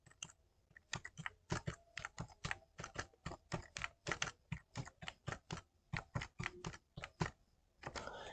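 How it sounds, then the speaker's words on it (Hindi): Rapid, uneven keystrokes on a computer keyboard, close and crisp, as bill numbers are entered into an Excel sheet; the clatter runs steadily with brief pauses and no talking. "इस प्रकार से मैं यहाँ पर इसका नंबर टाइप कर लेता हूं"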